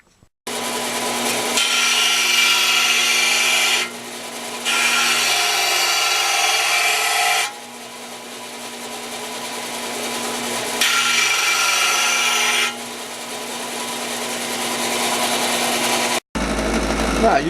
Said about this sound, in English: that last little bit, I'll get with the belt sander